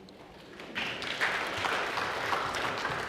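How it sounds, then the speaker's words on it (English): A congregation at a Sunday church service breaks into applause that swells from a quieter start into steady, moderately loud clapping heard at some distance. "You can applaud"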